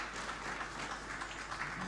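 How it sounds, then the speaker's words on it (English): Sustained applause from an audience at an energy management awards ceremony, a steady dense wash of clapping at moderate distance with no voices over it. "One more round of applause"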